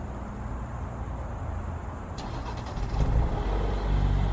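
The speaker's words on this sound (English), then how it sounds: "Now this is a cold start for this car." A 2018 Alfa Romeo Stelvio Q4 on a cold start, the engine catching and settling into a loud, rough idle close by, with no talk.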